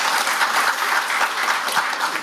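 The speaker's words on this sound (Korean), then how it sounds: "큰 박수 부탁드리겠습니다" Audience applause at a Saemangeum tidal power policy forum, a dense burst of many hands clapping steadily and briskly for a couple of seconds, loud and close.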